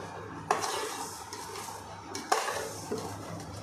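Cooked vermicelli being added and stirred in a pot for sheer khurma, with metallic clanks of a spoon against the pot over a soft sizzle.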